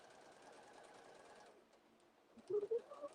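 A sewing machine runs with a steady whirring stitch for about a second and a half, then stops. A few louder clunks follow in an otherwise quiet room.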